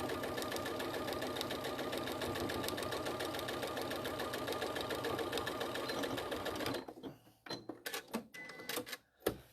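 Sewing machine straight stitching across crazy patchwork pieces, a fast steady close rattle for about seven seconds, then stopping into scattered handling clicks.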